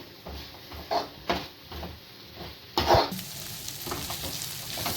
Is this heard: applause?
no